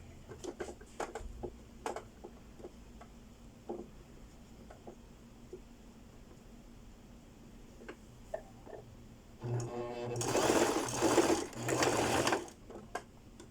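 A domestic sewing machine stitches a seam on a bodice or blouse, a quiet spell of clicks and handling noise giving way to a couple of short, fairly loud whirring runs near the end.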